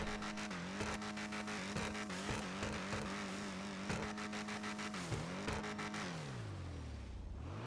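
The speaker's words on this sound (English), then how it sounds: "let's give it some gas and rev it up" A Karin Previon sports car engine in GTA Online, with manual transmission, revs hard and holds, pitch dipping and climbing with each throttle blip before winding down to a low rumble.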